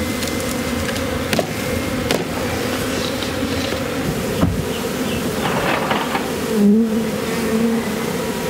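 Honeybees buzzing around beehives at an apiary, a dense, steady close hum of many insects with occasional louder passes near the microphone.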